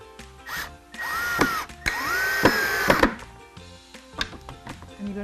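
Short bursts of a power drill boring pilot holes into a wooden desk-caddy brace, several stop-start whirs with clicks and knocks between them, close and fairly loud.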